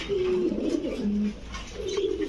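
Kaldom pigeons cooing nearby in a loft, with several soft, throaty coos overlapping across a couple of seconds over a steady background hum, with no talk.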